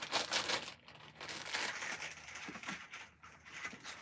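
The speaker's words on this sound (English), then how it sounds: "Plastic bag." A plastic bag crinkles and crunches close up in quiet, irregular bursts of rustling that carry on for a few seconds, with no talking.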